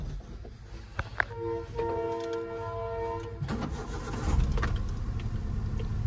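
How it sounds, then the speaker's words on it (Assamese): A Hyundai Eon hatchback with 72,000 km on it starts up and idles close by, a smooth, even engine hum with steady tonal whine and a few light clicks, no voices over it. "এয়া হৈছে ইঞ্জিন চাউণ্ড"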